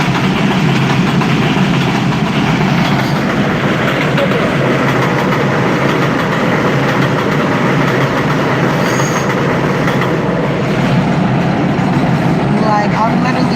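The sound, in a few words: train passing near a station in the Bronx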